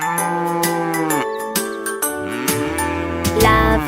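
A cow moos loudly and close in a children's song, several drawn-out lowing calls in a row with a sustained tonal quality.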